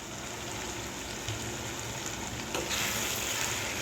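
Chicken kali mirch, a black pepper chicken, sizzles and crackles steadily in a pan as lemon juice is added, with a brief louder burst of frying partway through and no talking.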